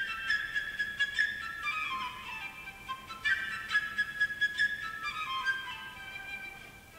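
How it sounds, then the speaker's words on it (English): A flute plays the bird's theme from Peter and the Wolf in quick, high, fluttering runs and trills, soft and unaccompanied by voices. "The character, the bird, is played by the sound of the flute, and it sounds like this."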